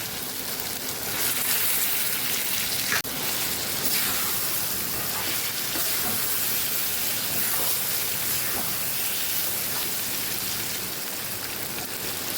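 Stuffed bitter gourds hit hot oil and sizzling masala in a pan, giving a dense, steady crackling hiss throughout, with a few sharper pops and clatters.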